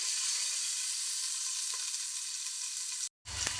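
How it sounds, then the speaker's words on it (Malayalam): Sliced onions sauté in hot oil in a pan for a biryani, giving a steady, close sizzling hiss that ends abruptly near the end, with no talk. "സബോള വഴണ്ടുകൊണ്ടിരിക്കുകയാണ്"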